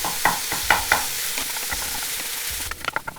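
Ground beef and onions frying in a pan make a close, steady sizzle broken by repeated scraping knocks of a utensil stirring and breaking up the meat, with a burst of clatter near the end.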